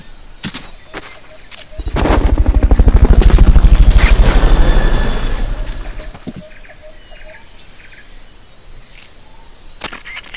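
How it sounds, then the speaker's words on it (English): A helicopter for Fulton recovery in the game Metal Gear Solid: Peace Walker passes overhead, its rotor thump swelling loudly for a few seconds then fading, among chirping insect-like ambience and scattered sharp clicks. "Fulton recovery helicopter is complete."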